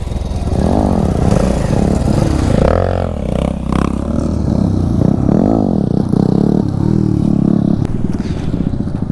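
A KTM motorcycle engine revs loudly and steadily during wheelie training, the throttle rising and falling over a continuous close rumble, with a voice briefly audible.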